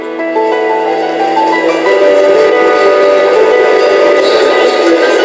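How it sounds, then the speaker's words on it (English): A London Underground Central Line train running loud and close, with sustained tonal whines and a heavy rumbling roar building up. "I'm catching the Central Line to Liverpool Street Station"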